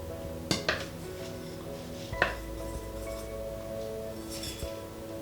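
Oats tipped into a mixing bowl while making vegan banana oat cookies give a few soft clinks and rattles against the bowl, sparse and quiet, with no one speaking.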